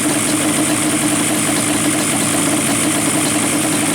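A Yamaha Banshee ATV engine idles steadily during carburetor synchronization, a loud, continuous rumble with a buzzing exhaust tone that holds even throughout, with no voices over it.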